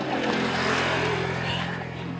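A motorcycle engine runs steadily nearby with a low, even hum, while people talk over it.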